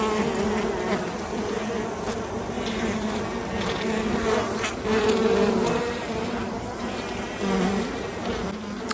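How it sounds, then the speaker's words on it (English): Honey bees in an open summer hive box give a dense, steady buzzing drone that fills the whole stretch close by, with no talking over it. "Now I hear the buzz in this box"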